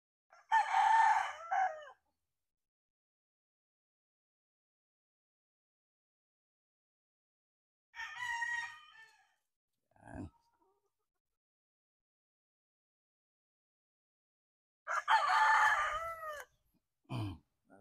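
Pure white Kelso roosters crow three separate times, each crow clear and fairly close, with long silent gaps between them and a short clucking call after the second crow.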